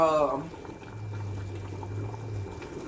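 Water is wrung out of a cloth in a home kitchen while making chicken and dumplings, giving a soft, trickling splash that pours back into a pot, fairly quiet, with a low steady hum beneath.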